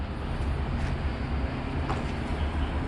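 A metro train creeps slowly along the tracks, a steady low rumble and rolling hum from inside the car with faint rattles, no talking heard.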